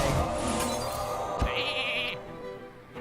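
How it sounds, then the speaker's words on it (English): Hearthstone's Polymorph effect produces a single close sheep bleat with a bright, wavering tone, layered over game sound effects. "So we could sheep Ysera, which I think is the right play"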